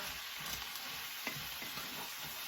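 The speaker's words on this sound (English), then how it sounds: "I want to stir until all the cabbage has been coated with some fat and heat" Sliced cabbage fries in fat while being stirred, a quiet, continuous low sizzle with a soft scrape or two of the utensil.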